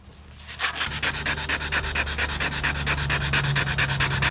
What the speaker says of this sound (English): I'm gonna grab my sandpaper and I'm gonna sand that poly right into those cracks and pores